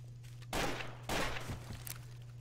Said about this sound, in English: please don't shoot in my general vicinity